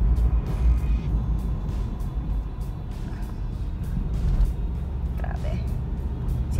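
Light vehicle traffic passes on a quiet Philippine street under enhanced community quarantine, a steady engine rumble of cars and trucks with brief clicks and higher noises, under a talking voice.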